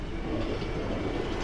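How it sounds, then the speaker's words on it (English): A train on the Tamar Valley line between Plymouth and Calstock rumbles past nearby, a steady, loud, continuous roll of wheels and carriages with no voices over it. "Looks like there's a train coming"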